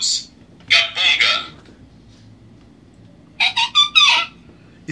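A handheld instrument imitates the call of the capanga bird with piercing, whistle-like bird-call bursts: a single note, then a pair, then a quick run of four calls after a pause.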